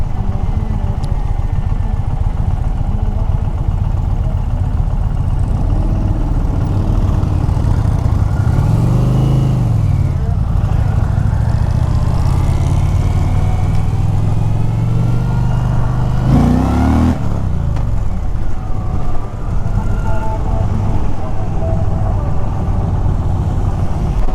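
An Indian Pursuit/Challenger touring motorcycle ridden on a test route, its engine droning loud and steady with wind rush, rising in two clear revving surges as the rider accelerates, with no talk.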